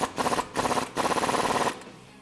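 A ratchet working a 21mm socket on a bolt head during a front leveling kit install on a 2019-2020 RAM 1500 4WD, giving three runs of fast, even clicking, close and loud, before trailing off.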